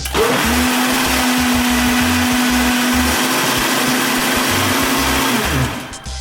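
A blender runs at speed setting 1 in a Ninja Ultima versus Nutribullet 900 comparison, giving a loud, steady motor whine with rattling of contents, starting abruptly and cutting off after about six seconds.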